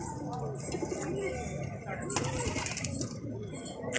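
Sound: pigeons fighting at the door

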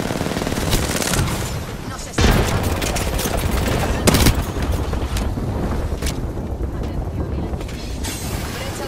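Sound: gunfire from the video game Apex Legends

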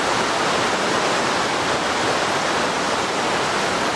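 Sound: Genesee River flowing water

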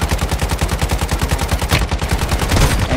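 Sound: gunfire in Call of Duty Warzone video game

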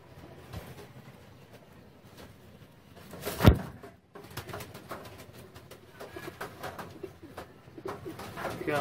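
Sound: pigeons cooing

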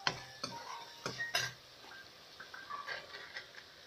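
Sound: stirring onions, green chilies and tomatoes in a pan

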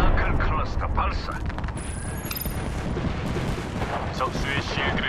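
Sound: gunfire in the video game Apex Legends

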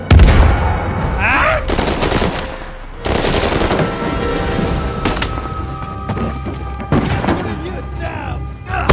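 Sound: gunfire from behind in the video game Uncharted 4

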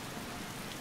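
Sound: rain in the video game Skyrim

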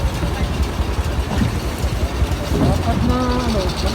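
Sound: boat on river carrying tricycle

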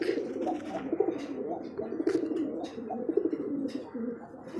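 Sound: male pigeon cooing, black with pitcher neck

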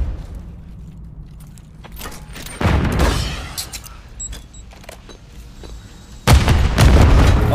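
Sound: bomb detonation explosion in Call of Duty video game

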